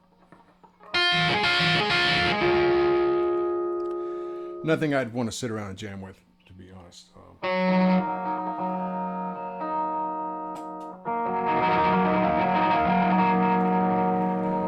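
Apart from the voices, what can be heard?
guitar through boost distortion pedal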